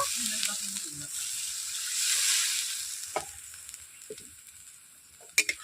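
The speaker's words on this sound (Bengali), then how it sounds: "বন্ধুরা দেখতেই পাচ্ছেন মশলাটা ফুটছে" Spice gravy for a soybean curry simmering in water in a pan gives a steady close sizzle and bubbling hiss that rises and fades, with a few sharp clinks near the end.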